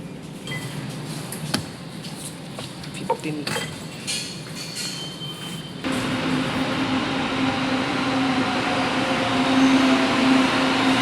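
A metro train pulls in at Katipunan station, a broad rumbling roar that swells and grows steadier and louder partway through, with a low hum running beneath and scattered clanks and knocks before it.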